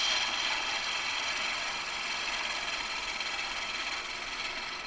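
Wood lathe spinning a pen blank while it is shaped toward the bushing, a steady close whirring drone with a faint rattling mechanical texture, easing slightly toward the end, no talk.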